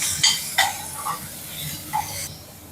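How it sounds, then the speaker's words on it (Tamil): Garlic, curry leaves, coriander and tomatoes sautéing in a pan for a kara kuzhambu, with soft sizzling and a few spoon scrapes and taps against the metal, close up. "பூண்டு, கருவேப்பிலை, கொத்தமல்லி எல்லாம் போட்டு ஒரு வதக்கிட்டு தக்காளியும் போட்டுக்கலாம்."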